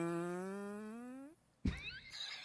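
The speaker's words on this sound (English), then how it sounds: "They do have a fart sound effect on Storyblocks." A long, dramatic stock-library fart sound effect, a sustained buzzy tone that bends slightly upward for over a second, followed by a brief pause and a sudden louder burst.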